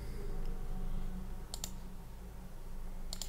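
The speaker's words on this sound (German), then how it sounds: "Ich klicke einfach hier mal so ein paar Sachen an" A few quick computer mouse clicks in two short pairs while browsing Farming Simulator 22 mod settings, faint and close over a steady low hum, with no talking.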